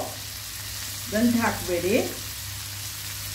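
Chopped fenugreek leaves frying in a pan over high flame, a steady soft sizzle running throughout, close by, while someone speaks briefly over it.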